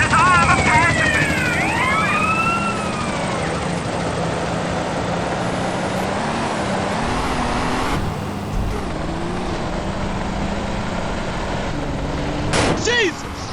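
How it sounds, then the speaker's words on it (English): A police helicopter's rotor thrums steadily under loud game noise in GTA San Andreas, with engine whines, clattering bursts and a sudden sharp crash near the end. "We're the police, morons. We've got a helicopter."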